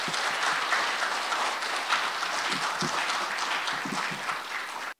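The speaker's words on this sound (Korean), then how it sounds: "우리 최수찬 교수님 큰 박수로 환영해 주시기 바랍니다." Warm, dense audience applause welcoming a lecturer at a mathematical society public lecture, sustained and fairly loud throughout before cutting off abruptly.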